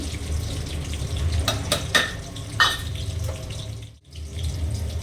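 Ground garam masala and mace tipped into a hot frying pan, a continuous sizzle broken by a few short scraping and clinking spoon sounds, then a brief dip before the frying resumes.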